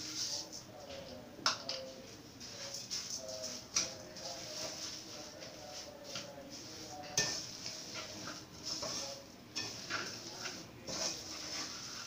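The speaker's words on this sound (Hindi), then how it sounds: "मैं इसमें मुसलसल चमचा चला रही हूँ" A spoon keeps stirring sugar into milk-soaked coconut in a pot for coconut ladoo, producing soft, irregular scraping and clinks against the metal, faint and close, with a dog whimpering quietly in the background.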